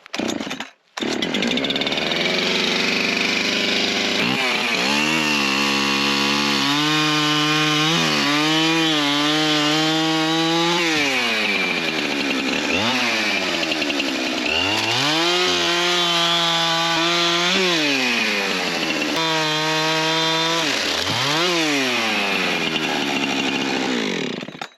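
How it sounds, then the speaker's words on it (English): A freshly sharpened chainsaw cuts logs into firewood, its loud close engine snarling continuously for about twenty-five seconds and rising and falling in pitch as it bites through wood and eases off between cuts. "I got my saw nice and sharp. This is going to be the easiest experience cutting wood"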